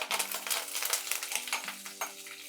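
Curry leaves and peanuts fry in a hot pan, a steady crackling sizzle broken by scraping stirs and light clinks of a utensil against the pan, close and continuous.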